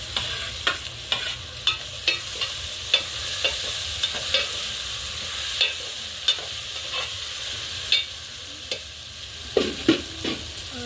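Tomatoes and potatoes stirred into onions and green chillies frying in a pot over a wood-fired stove: a steady, close sizzle broken by regular scraping strokes of the spoon, with no talking.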